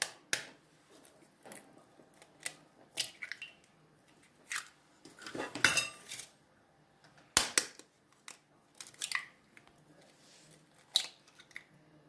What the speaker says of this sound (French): نكسروا البيض هنا